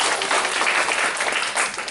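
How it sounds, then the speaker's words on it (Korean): Audience applause at a leadership lecture, dense steady clapping from a crowd that fills the whole stretch without pause, loud and close. "이 4개 하신 분들 박수 한번 쳐드리자고요"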